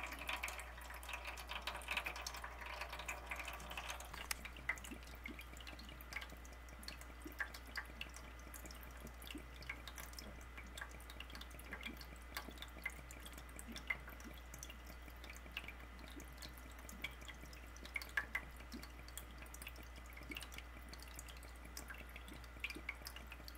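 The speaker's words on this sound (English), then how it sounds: "So I'm just basically letting it drain." Water drains from the filter of a Kenmore HE-3 washing machine: a faint, steady trickle with scattered drips, continuous and close, with no voices.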